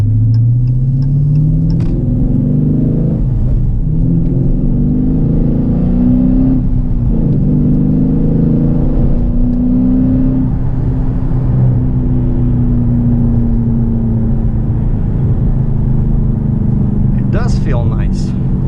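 A Dodge Challenger 392 R/T Scat Pack with a 6.4L engine and an 85 mm BBK throttle body rumbles loudly at close range, revs rising and falling in long sweeps while the owner talks over it.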